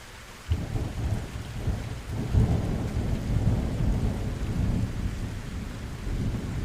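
Heavy rain pours steadily in a thunderstorm, with deep rolling thunder rumbling underneath after a brief quiet start.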